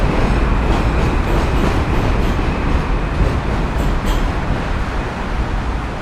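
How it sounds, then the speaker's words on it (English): A New York City subway M train rolls past on the Williamsburg Bridge between Brooklyn and Manhattan, a loud, continuous roar of wheels and rumbling cars with faint clatter, filling the whole stretch without talk. "It's kind of frequent M train."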